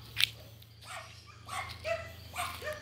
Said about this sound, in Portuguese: latindo como sempre